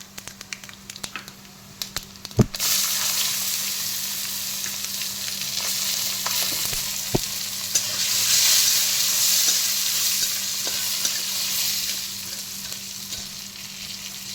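Nuts go into a hot pan of spices for Nawabdari chicken: a few light clatters, then a loud, steady sizzle of frying oil that swells and continues to the end.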